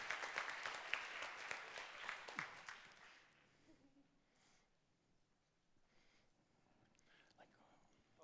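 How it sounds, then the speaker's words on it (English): Brief audience applause for the FAO Director General at a youth school assembly of the World Food Forum, several seconds of close clapping that fades out, followed by quiet murmurs and faint talk. "So let's give him a big round of applause"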